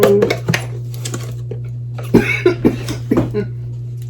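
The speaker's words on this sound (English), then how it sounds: "Pepper makes me cough and sneeze, I'm sorry." Coughing caused by pepper while mixing homemade taco seasoning in a kitchen, several short, sharp coughs scattered across the stretch over a steady low hum, with faint clatter between them.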